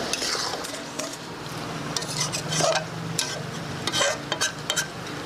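Chicken and bamboo shoot sautéing with spices and turmeric in a village-style pan, a utensil stirring and scraping with soft clinks against the metal, a faint sizzle underneath, steady and close.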